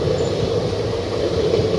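The Up Black Diamond Express, also called the Howrah–Dhanbad Express, rolls past with a loud, continuous rumble of wheels and wagons and no pause throughout.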